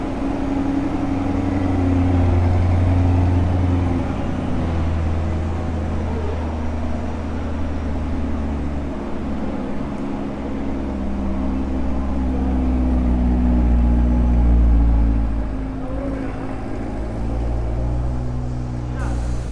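A 2020 Chevrolet Corvette engine runs steadily nearby, a deep continuous rumble that swells briefly twice, heard alone with no talking.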